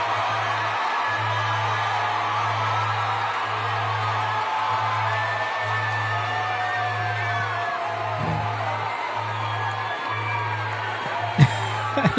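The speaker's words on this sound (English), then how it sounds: "Crowd's cheering." A large rally crowd cheers and shouts continuously, a broad sustained roar with scattered yells, over a pulsing low hum, ending with a brief sharp knock near the close.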